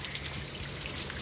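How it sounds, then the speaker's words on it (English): Steady rain falls in California, a continuous dense patter of drops on surfaces, close and even throughout with no voices. "So yeah, it's raining, guys."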